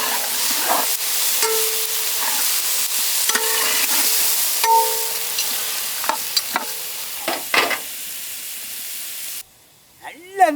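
Goat head meat, soaked in turmeric, fries in oil with tomato and chili, giving a steady loud sizzle with scattered stirring clinks and scrapes, then a sudden drop near the end.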